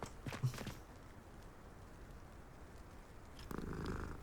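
A cat in the video game Hogwarts Legacy purrs faintly and steadily for a few seconds, a soft low rumble set against quiet game ambience, with brief rustling at the start and a louder burst near the end.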